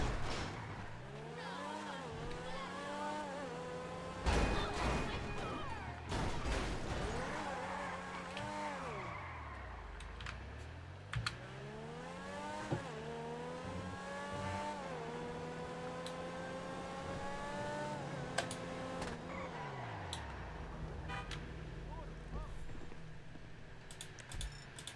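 A car driven through a city in a video game running on a Ryzen mini PC, with engine tones rising and falling through gear shifts, occasional tire squeals and skids, and a continuous moderate level with no talk.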